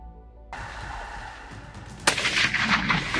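A rifle shot fired while hunting, heard as a loud, sharp blast about two seconds in, after a quieter stretch of outdoor ambience.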